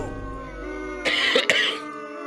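A person coughs and clears their throat in two sharp, close bursts, set against quiet background hum with no talking.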